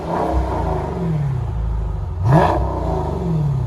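A Dodge Challenger SRT 6.4L HEMI rumbles at idle with exhaust flaps open in sport mode, then briefly revs up with a rising roar around the middle before settling back to a deep, loud burble.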